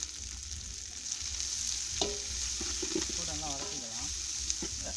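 Green chillies and onions sauté in a pan with a continuous bright sizzle and soft stirring scrapes, while a person talks over the frying partway through.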